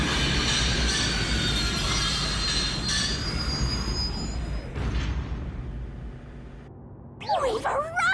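A train in the game Rain Code pulls into a station with steady rumbling and sharp, high wheel squeals that fade as it slows, followed by a brief louder clatter near the end.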